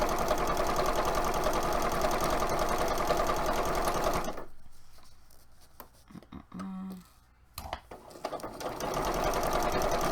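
A sewing machine stitching a costume runs in a loud, steady close whir, pauses briefly with a few soft clicks, then starts up again at full speed.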